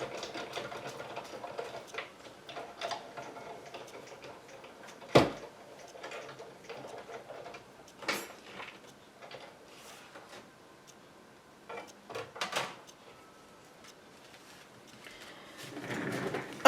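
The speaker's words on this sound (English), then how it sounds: "So I'm just going to go over to my machine now and run this through" A die-cutting and embossing machine cranks a sheet of cardstock through its rollers for a corner bookmark card, giving low mechanical whirring with scattered clicks and a few sharp clunks, close and moderately quiet with no talking.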